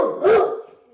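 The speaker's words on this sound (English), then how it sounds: "Let your brother bark." Single dog bark, one sharp close woof that fades quickly.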